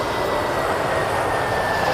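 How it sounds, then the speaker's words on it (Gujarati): An IndiGo passenger airplane coming in to land at Ahmedabad airport, its engines giving a steady, loud broadband roar with no pauses, heard from the ground. "તો ભાઈ બીજું એરોપ્લેન આવી ગયું છે લેન્ડિંગ માટે"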